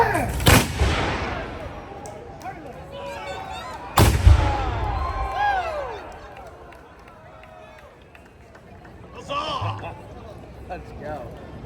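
Black-powder musket volleys at a Mecklenburg Declaration of Independence 250th anniversary reenactment in Charlotte: two loud, sharp massed blasts a few seconds apart with rolling echo, shouted commands and crowd voices between.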